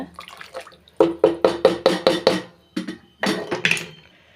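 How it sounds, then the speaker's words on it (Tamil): Water is poured from a tumbler into a cooking pot for mushroom biryani, coming as a quick run of close, splashy glugs in an even rhythm, then a short pause and a second brief pour. "தண்ணி ஊற்றின பின்னாடி நல்லா உப்பு எல்லாமே இப்போ தாங்க நல்லா சரி பார்த்துக்கோங்க"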